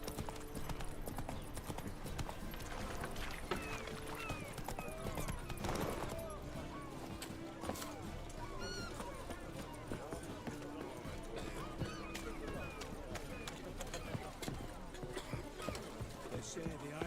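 Galloping horse hooves in The Witcher 3: Wild Hunt, a steady rapid clip-clop across the whole stretch with game ambience and occasional voices beneath.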